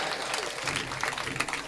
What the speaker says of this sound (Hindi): ताली बजा के बताओ